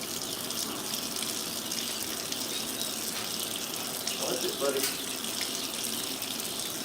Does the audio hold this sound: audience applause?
no